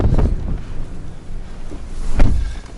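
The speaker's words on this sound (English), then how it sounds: "Ooh. It's breezy." Gusty wind buffets the microphone outdoors, with low rumbling bursts that swell near the start and again toward the end, loud and close, no talking.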